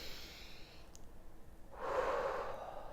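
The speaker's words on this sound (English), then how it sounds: "let's take a deep breath in so we can shake off any negativity that we may have been holding in for today" A single deep breath is drawn in close to the microphone, a soft airy inhale that swells over about a second after a quiet lead-in.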